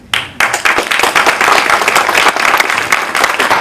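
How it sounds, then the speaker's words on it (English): After final statements at a 2015 Orem city candidate debate, the audience breaks into loud applause, a brief quiet start and then a dense, steady burst of many hands clapping close by. "would you please join me in applause for their candor, opinions, and willingness to engage in our great city"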